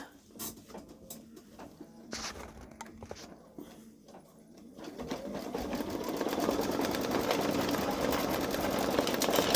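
A Baby Lock Solaris Vision embroidery machine stitches out a patch with Floriani thread, starting with scattered mechanical clicks and movements before settling into a fast, steady, rhythmic whir of stitching that grows louder and continuous, close up.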